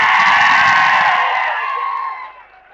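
A large crowd at a political rally in Maharashtra roars and cheers in one loud, sustained swell that fades out toward the end.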